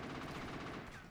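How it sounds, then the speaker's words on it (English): Automatic gunfire from the video game Rise to Honor, a dense rapid rattle of shots running continuously at low, steady volume. "These are the fastest guns I've ever had, though."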